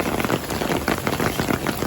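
Heavy monsoon rain pours down at Rathoa Haryam Bridge in Mirpur, a dense, steady hiss of drops hitting surfaces all around, loud and close without pause.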